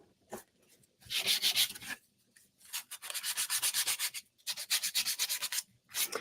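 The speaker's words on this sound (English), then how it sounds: "if you sand it down enough, it just kind of looks like the wood is peeking through" Painted wood is sanded by hand with 320 grit sandpaper in close, raspy strokes that come in bursts of quick back-and-forth rubs with short pauses between them.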